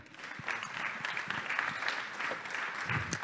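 Business startup day audience applauding warmly to welcome an electronics company vice-president onto the stage, a steady full burst of many hands clapping in a large hall, with a few low thumps near the end.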